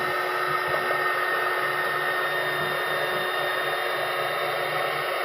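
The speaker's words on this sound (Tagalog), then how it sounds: "Heat gun tong gamit natin" A steady, loud rush of hot air from a heat gun drying a water-soaked computer system unit, continuous and close, with a constant whine running underneath.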